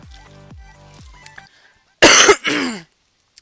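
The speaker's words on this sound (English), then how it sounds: "So sorry for coughing in y'all's ears." A person gives two loud, harsh coughs close to the microphone after a stretch of quieter tonal sound and brief hits, then silence.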